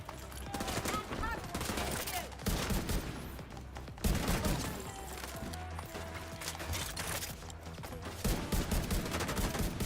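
Rifle gunfire in the shooter game The Division 2, loud rapid bursts of shots with brief pauses, mixed with game effects and some voice chatter.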